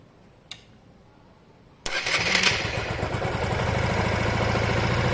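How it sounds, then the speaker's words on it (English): A Honda Varadero 125 motorcycle engine cranks and catches after a short click, then settles into a steady, close, rhythmic idle that holds to the end. "Let me fire it up, see if that goes up anyway."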